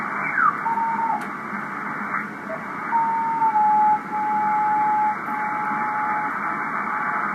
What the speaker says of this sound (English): Sounds almost like a beacon.